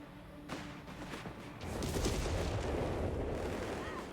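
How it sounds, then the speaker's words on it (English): Howitzer artillery shelling in Company of Heroes 3: a sharp blast near the start gives way to a heavy, rumbling barrage of explosions that grows louder after about a second and a half and keeps booming steadily. "Alright, so I'm just gonna keep shelling this area."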